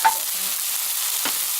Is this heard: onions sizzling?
yes